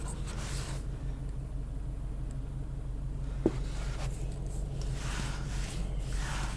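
A 2020 Subaru BRZ Limited automatic drives in normal mode, its engine a steady low hum and rumble heard from inside the cabin, with one brief click partway through.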